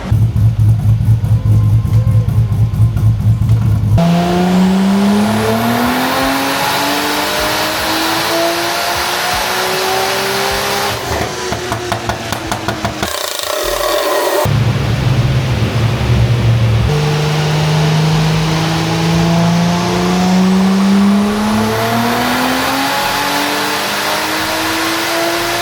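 A turbocharged Toyota 1G-FE engine revs hard through repeated tuning power runs, loud and close, its pitch climbing through the gears with brief lifts off the throttle between pulls.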